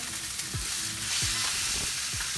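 Close, loud sizzling of lingcod frying in a hot pan, with a few soft scrapes and knocks as it is turned over.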